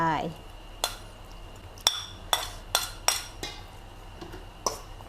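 Thai banana blossom salad with shrimp and shallots tossed in a bowl, giving a run of sharp utensil clinks and scrapes against the dish, spaced irregularly and close up over a low background hum.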